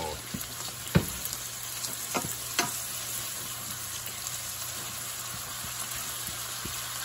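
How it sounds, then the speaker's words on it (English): Onions and prosciutto fry in a pan with a steady, close sizzle, broken by a few sharp clicks and taps of stirring. "We're just frying those Prosciutto? onions."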